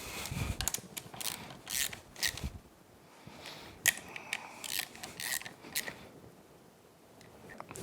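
Bolts on a Yamaha F225 outboard's fuel system being snugged down with a hand tool, heard as bursts of quick ratcheting clicks with brief pauses and sharp metallic taps, close and fairly quiet.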